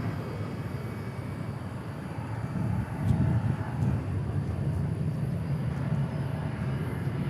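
An airliner takes off at DFW airport, its jet engines a broad, steady rumbling roar at a distance that swells slightly midway and holds, with no voices over it.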